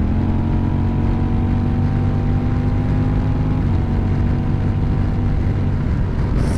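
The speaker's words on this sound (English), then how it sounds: "I'm gonna give it full throttle to see how it behaves." A motorcycle on Pirelli Night Dragon tires pulls at full throttle at highway speed, giving a loud, continuous engine drone buried in heavy wind rush, with the engine note shifting slightly partway through.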